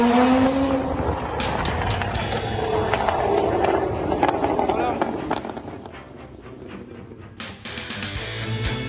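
Cars speed along Jalan Gajah Mada, a city street in Pontianak, with loud, close roaring passes and tire noise rising and fading, while a person talks over the traffic.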